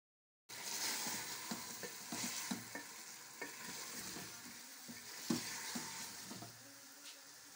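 Chicken, potato and egg masala roasting in a pan, with steady close sizzling and repeated scraping strokes of a spoon stirring through the mixture, no voices.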